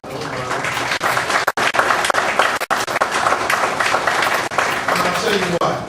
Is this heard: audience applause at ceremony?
yes